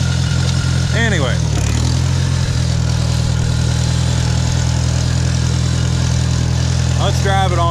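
A Farmall 140 tractor engine running on choke with a plugged carburetor, starving for gas, a steady loud mid-pitched chug throughout with brief revving surges near the start and end.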